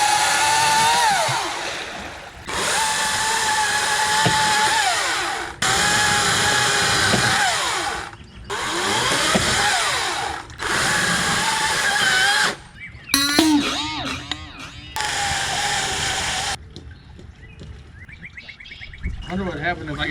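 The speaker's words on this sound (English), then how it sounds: "Let's get that chainsaw kicking over here." A chainsaw on a solar-powered houseboat roars in loud sustained bursts, revving and cutting out several times with short gaps between, then sputters and stalls near the end.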